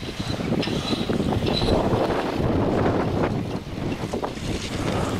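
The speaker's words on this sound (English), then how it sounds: "I know it's windy today." Steady outdoor wind at a baseball pitcher's mound buffets the microphone with a constant rumbling roar, loud and unbroken throughout, with faint background sounds mixed in.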